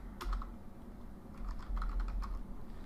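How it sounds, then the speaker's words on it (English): Computer keyboard typed at close range, a quick run of soft key clicks in two short bursts over a low background hum. "We could type in this syntax here."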